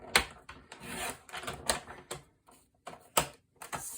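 Sheets of paper are sliced on a paper trimmer while a mini album is finished, giving repeated short scraping swipes and clicks of the blade in a quiet room, close and fairly soft, with no talking.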